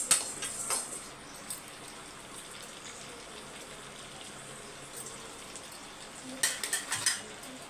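Lentils dry-roasting in a pan for a thick dal chutney, with faint scraping and stirring clatter at the start, a quiet steady hiss through the middle, and a brief cluster of louder utensil scrapes near the end.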